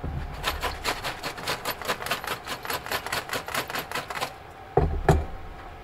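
Circuit boards and RAM sticks shaken after heating in a kiln to knock loose IC chips, giving a steady run of rapid rattling clatters that stop, then two louder sharp knocks close up.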